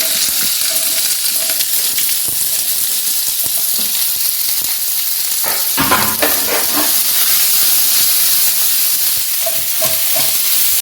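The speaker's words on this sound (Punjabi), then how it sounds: "ਆਪਾਂ ਇਹਦੇ ਵਿੱਚ ਭਿੰਡੀਆਂ ਉਹ ਕਰਦੇ ਹਾਂ ਫਰਾਈ" Okra fries in hot oil with a constant loud crackling sizzle, joined midway by a burst of stirring and spattering.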